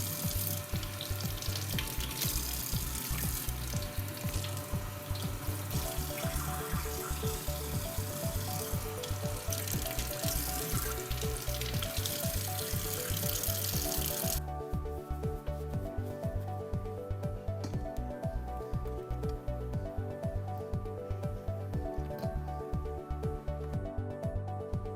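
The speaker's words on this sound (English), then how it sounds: "I like to wash my fruits and vegetables in a vinegar water solution, usually 1 part vinegar to 3 parts water" Fruits and vegetables soaking and being washed in a vinegar-and-water solution at a kitchen sink, with steady running water and light clatter under rhythmic background music; the water noise thins out about midway.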